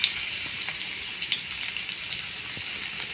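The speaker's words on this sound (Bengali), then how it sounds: "প্রথমে আলু ভেজে নেব অল্প তেল দিয়ে।" Potatoes frying in a little hot oil in a wok, village-style cooking: a steady, moderately loud hiss and crackle with small popping spikes, close by and continuous throughout.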